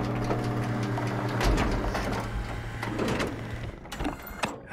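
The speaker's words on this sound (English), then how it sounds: "You should be able to use the machines to load the bullet you assembled." A machine in the game Soma loads an assembled bullet with a steady mechanical hum and whir, followed by a few clunks and a brief scraping slide as it finishes.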